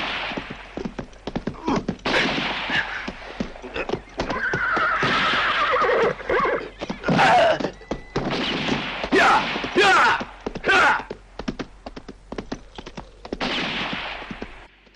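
A horse neighs and hooves clatter amid a busy Western film soundtrack, with loud whinnies rising over dense hoofbeats and background action for most of the scene, no talking heard.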